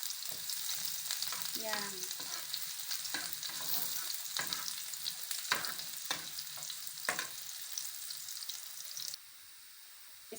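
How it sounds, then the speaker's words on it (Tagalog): Garlic sizzles in a hot pan: continuous close crackling and spitting oil, broken by sharp clatters of a utensil. A voice briefly utters one short word, and the hiss drops sharply near the end. "Mainit na ang kawali. Lagyan na natin ng bawang."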